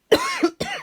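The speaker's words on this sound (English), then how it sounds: "I apologize, y'all, if I cough and sniff and things during this video." A person coughing twice in quick succession, close and loud, each cough a sharp burst followed by a brief rasping tail, with a short pause between them.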